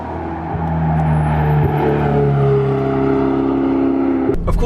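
A Ferrari 488 GTB's turbocharged engine drones steadily while driving, a loud, sustained hum that shifts pitch in a couple of gear-like steps, close and continuous with a brief knock near the end.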